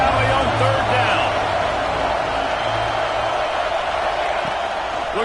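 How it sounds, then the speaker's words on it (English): Big stadium crowd in a college football video game roaring at Happy Valley on third down, a dense, steady wall of noise with a commentator talking over it. "Here comes the noise from this big crowd in Happy Valley on 3rd down."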